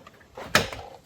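A plastic retaining clip on a crash-damaged Mercedes body part snaps into place with one sharp, close click standing out from quiet background.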